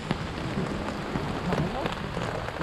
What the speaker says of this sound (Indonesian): tapi di luar hujan lagi